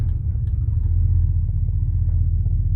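A 1989 Dodge D150 pickup's V8 engine, not running hot enough, idles with a deep, loping rumble, steady and close, with nothing else heard.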